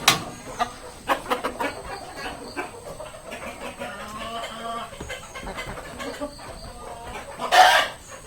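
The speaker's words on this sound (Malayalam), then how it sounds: "ഇതിൽ തൊപ്പി കോഴികളുമാണുള്ളത് ഈ കൂട്ടിൽ" Several caged crested and Kappiri chickens cluck close by in short, irregular bursts, with sharper calls scattered throughout and a loud squawk near the end.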